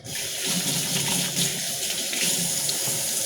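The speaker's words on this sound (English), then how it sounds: "Rinse my hands." Tap water runs steadily over hands being rinsed at a kitchen sink, a continuous close splashing gush with no talk.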